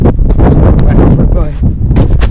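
Strong wind buffets an outdoor microphone beside a Honda being fitted with a CR-V rear trailer arm for an AWD build, making a loud, constant low rumble with gusty surges throughout.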